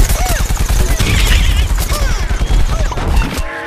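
Rapid, continuous gunfire from a Plants vs Zombies: Garden Warfare match on Xbox One, dense and loud throughout with game effects layered over it and someone talking over the action.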